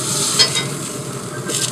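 A steak sizzles steadily on a cast iron barbecue plate on a Z Grill just after being flipped, a loud continuous frying hiss with a few brief scraping touches.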